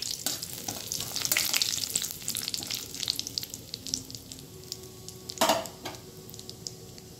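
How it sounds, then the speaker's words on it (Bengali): Whole cumin seeds, bay leaf and dried red chilli frying in hot oil for a tempering, a steady close sizzle with scattered crackles and a couple of sharper spatter bursts, no talking. "ফোড়নটা একটু ভাজা হয়ে যায়।"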